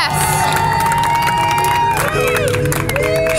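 Excited crowd cheering and whooping in a hall, a dense, loud roar of voices with shouts and some clapping, sustained throughout with a sharp rising cry near the end.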